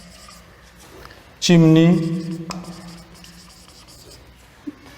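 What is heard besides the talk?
writing by hand during a lecture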